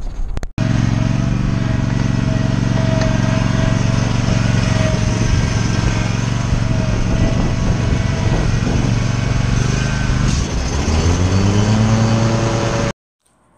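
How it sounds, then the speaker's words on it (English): A Scag Liberty lawn mower drones loudly and steadily while mowing a yard, its engine note holding for about twelve seconds before it shifts pitch near the end and then cuts off. "I'm going to get some more mowing footage here in a second."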